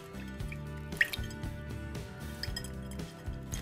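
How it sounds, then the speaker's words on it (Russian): Hand stirring a thin, still watery slime mixture in a container, producing soft irregular drips, splashes and faint clinks, with a steady tonal hum underneath and no talking. "попробую помешать рукой, что ли. Но пока что просто вода, реально вода."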